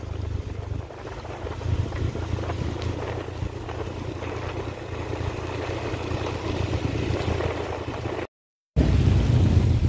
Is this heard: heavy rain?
yes